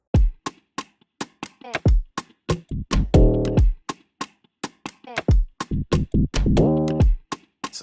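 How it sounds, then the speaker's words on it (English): In a trap beat, a sustained electric bass line swells in with long low notes under a steady pattern of sharp drum hits and booming 808 kicks. "So after that, he added the E-bass."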